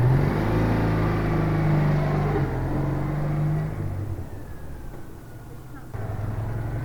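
A Citroen 2CV6 engine running at a steady idle, with a low, continuous hum close by that drops in level partway through and then rises again, while someone speaks over it.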